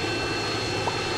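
A jet fighter flying in the Roblox game Mad City, a steady loud engine roar with a constant broadband rush, unbroken for the whole moment.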